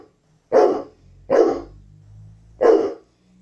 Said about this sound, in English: This is my dog barking at the postman.